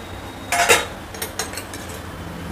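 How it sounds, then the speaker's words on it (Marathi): A lid set on a cooking pot of smashed potato curry on a low flame: a couple of sharp metallic clanks and rattles, close, followed by lighter taps and a quiet background, with no voices. "तर आता ह्याच्यावर आपण झाकण ठेवूया आणि वाफेवर ठेवूया"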